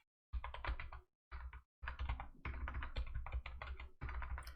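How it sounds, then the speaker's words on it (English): A computer keyboard sits right behind a microphone and is typed on in close, crisp bursts of rapid keystrokes separated by short pauses, with no talking. "I have my keyboard right behind my microphone, so sometimes it's hard to see"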